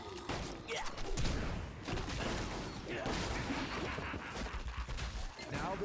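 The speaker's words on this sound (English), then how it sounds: "I accidentally switched to shotgun." Shotgun blasts and chaotic gunfire from a zombie video game, heavy booms and crashes packed together in a dense, loud barrage with little letup.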